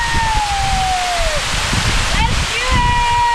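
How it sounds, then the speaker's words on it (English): Hanakapi'ai waterfall on Kauai roaring as a loud, steady broadband rush of falling water heard up close, with faint whistling tones drifting over the constant wash. "I'm going to try to get behind this waterfall with Elise."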